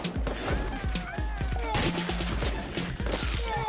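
Rapid assault rifle fire in the bullet-heaven game Slime 3K rattles in fast, evenly spaced bursts of punchy shots, layered with zaps and chiming effects in a busy, loud mix.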